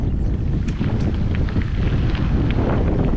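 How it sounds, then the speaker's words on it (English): Steady wind buffeting the microphone on a windy spring gravel bicycle ride near Gainesville, Texas, a loud continuous low rumble filling the whole stretch with no speech. "It's pretty windy"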